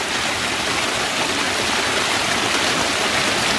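Strong water flow pours steadily from a backyard pond waterfall, a dense, continuous rushing and splashing that stays loud and close throughout with no voices.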